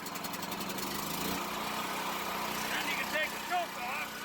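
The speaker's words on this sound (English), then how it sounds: "let it run for just a couple seconds under that choke until the intake gets warmed up enough" A backup generator engine runs on choke during a power outage, its steady mid-pitched drone continuing throughout under a man's speech, with faint higher chirps near the end.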